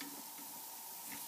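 Bratwurst sausages sizzle on a grill, a soft steady frying hiss that stays quiet and even, with a faint knock as one gets turned.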